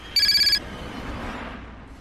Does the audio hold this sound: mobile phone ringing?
yes